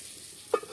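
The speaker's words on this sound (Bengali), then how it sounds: "ঢাকা খুলে নেড়ে দেব।" Taro mash fries in an uncovered pan, a faint quiet sizzle with a single soft stir or scrape near the end. It is brief and low in level, with no talking.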